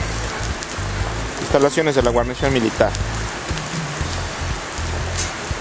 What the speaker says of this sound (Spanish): Una intensa lluvia.